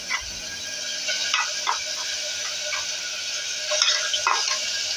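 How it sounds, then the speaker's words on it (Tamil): Asafoetida and a ground paste frying in hot oil in a pan for pepper rasam, with a steady close sizzle, crackling pops and occasional stirring scrapes, no voices. "இப்போ பெருங்காயம் பொரிஞ்சு வந்துருச்சு"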